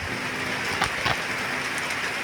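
Steady rain falls over a rural village of tin-roofed houses in Sreepur, Gazipur, Bangladesh, a continuous even wash of patter with a couple of slightly louder drips, and no voices.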